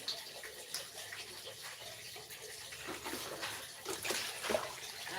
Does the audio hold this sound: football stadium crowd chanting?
no